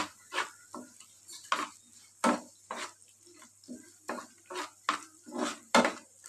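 Potatoes and chilli fry in a pan for chowmein while a utensil stirs them, giving a series of irregular scraping clanks about twice a second over a low, quiet sizzle.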